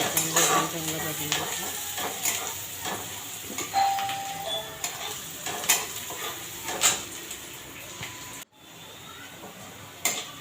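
Onion frying in a pan for tomato bhaji, a soft continuous sizzle broken by utensil scrapes and clinks and a brief electronic beep, with a short dropout near the end.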